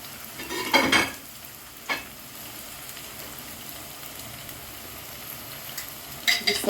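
Fried onion cooking with a spoonful of tomato paste, a soft continuous sizzle punctuated by a few loud scraping stirs at the start and end, with no talking.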